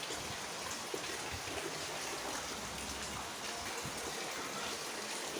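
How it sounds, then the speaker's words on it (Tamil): Heavy rain pours steadily at a hill-station resort in Ooty, a loud, even hiss of falling water and splashing drops that fills the whole stretch with no voices. "ஊட்டியில் வந்து செம்மையாக மழை பெஞ்சிட்ருக்கு."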